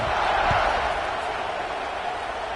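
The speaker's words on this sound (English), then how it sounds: "this crowd is buzzing after that last score" A stadium crowd in a Madden NCAA football game buzzes after a score, a dense, even roar of many voices held steady throughout without clear applause.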